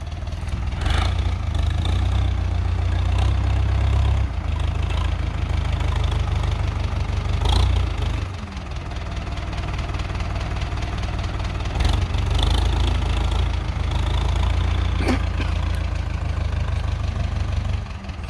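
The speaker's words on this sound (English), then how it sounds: "he's using a loader to ram some of it across" A tractor loader pushes soil across a field to build a track. Its engine drones and idles close by with a low, steady rumble, dipping and rising as the load changes, and occasional clanks cut through.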